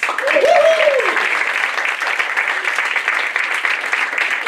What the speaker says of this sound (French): Vous pouvez nous donner une main d'applaudissement parce qu'on est full house.